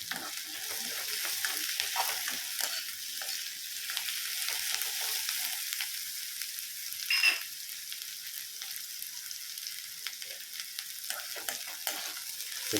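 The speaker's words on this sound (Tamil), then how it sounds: "கருவேப்பிலை கொஞ்சம் போட்டுக்கணும் அதில்." Curry leaves sautéing in oil in a pan for a home-style Chindamani chicken fry, giving a steady, close sizzle with scattered crackles and light stirring scrapes throughout, no voices.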